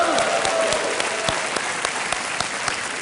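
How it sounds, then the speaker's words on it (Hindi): Studio audience applause on the KBC game show: a dense, steady burst of clapping from many hands, loud and continuous throughout, with no talk over it. "तालियों के साथ इनका अभिनंदन"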